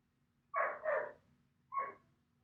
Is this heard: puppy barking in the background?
yes